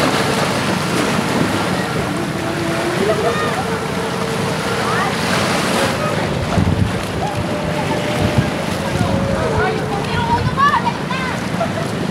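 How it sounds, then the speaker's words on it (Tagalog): Ocean waves wash into the deep pool of a cove, a continuous rushing surf under heavy wind buffeting on the microphone, with people talking over it. "Yun yung alon."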